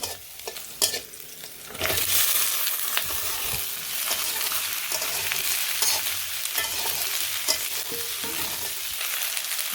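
Pointed gourd (potol) drops into a pan of fried onions, then a loud, continuous sizzle of frying follows, with stirring and scraping.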